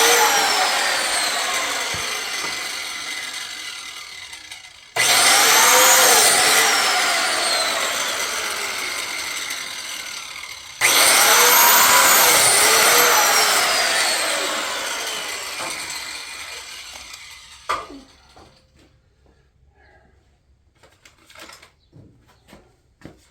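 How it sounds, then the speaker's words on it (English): A circular saw plunge-cuts a wood board on an old farm wagon, running as two loud sustained bursts of spinning blade biting into the timber, each winding down, then quieter knocks and handling sounds toward the end. "So you always get it spinning before you plunge cut it."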